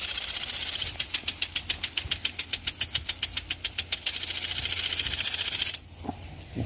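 Metal pulsating impact sprinkler, model 10507HDDI, mounted on a tripod and spraying water from a hose, ticking in a fast, steady rhythm of sharp pulses over a constant hiss of spray, then going quieter near the end.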